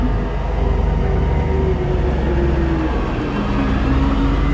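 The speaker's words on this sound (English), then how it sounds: "there's a massive truck coming right now." A massive truck approaches and turns nearby, a loud continuous low engine drone with a faint tonal whine, steady throughout with no talk.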